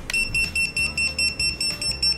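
Buzzer on a drone flight controller with a Jumper AION Mini ELRS receiver beeping in a fast, regular series of about nine sharp, piercing tones, close and loud, with no voices.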